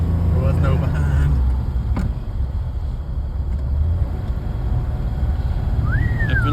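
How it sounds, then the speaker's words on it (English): A 1953 Mercedes Adenauer cruising in third gear at about 30 mph, with a steady low engine and road drone throughout, and a rising whine near the end. "Up in the third, we're cruising 30-ish miles an hour."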